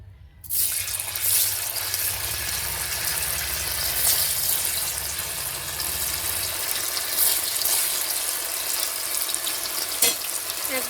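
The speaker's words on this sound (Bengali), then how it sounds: "এই যে তেল গরম হয়ে গেছে এখন পনিরটা ভেজে নেব" Paneer frying in hot oil makes a loud, dense, continuous sizzle that starts abruptly and runs unbroken, with a faint knock near the end.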